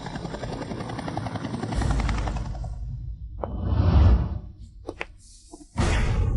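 A Black Hawk helicopter flying as a sound effect, with a loud, sustained rotor roar that swells and dips, a whooshing pass near the middle and a renewed loud burst at the end.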